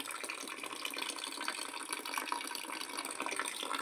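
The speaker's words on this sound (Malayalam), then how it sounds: "ഈ ക്യാനിലെ വെള്ളം പോകേണ്ടതുകൊണ്ട് ചെറിയൊരു ഹോൾട്ടിട്ട്" Water trickles and splashes steadily from a small hole in a can set up with a household water pump motor and tank, a continuous close-up flow with no voices.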